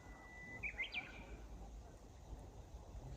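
Birds chirp briefly on a tea farm in the hills of Wazuka, Kyoto, a short cluster of calls near the start over a low outdoor hum, then fading into quiet background.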